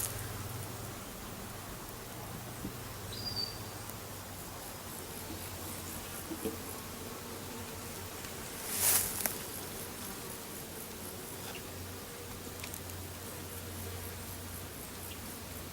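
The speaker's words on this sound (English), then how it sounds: "These are just regular bees here" A steady, low insect hum of honeybees at a hive during feeding fills the background throughout, with a brief brighter crackle midway and no talking.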